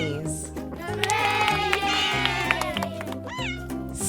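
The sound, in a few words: Siamese cat meowing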